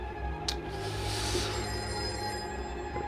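An old-fashioned telephone bell rings continuously in a 1920s-style harbor ranger station setting, a bright metallic ringing sustained throughout the clip with no talk.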